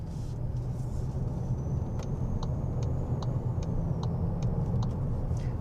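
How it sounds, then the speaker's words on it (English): Skoda Superb SE L Estate with a 1.5 petrol engine pulling onto a dual carriageway, a steady, close interior drone of engine and road noise that holds constant throughout, with a few faint ticks. "So the engine sounds a little bit laboured when you're really pushing it, but then it smoothens out so nicely."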